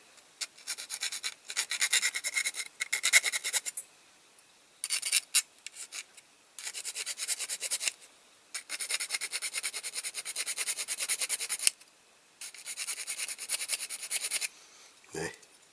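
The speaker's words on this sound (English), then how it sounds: "I'm going to file the top off this one at the front because usually they sit proud a bit" A metal file rasps across the post of a die-cast Corgi Toys Dodge Kew Fargo livestock transporter in repeated scraping strokes, close and fairly quiet, with short pauses between bursts.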